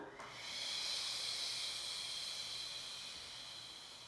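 Long, steady exhalation during a Pilates exercise, a close, airy hiss sustained for about four seconds with little variation, alone without talk.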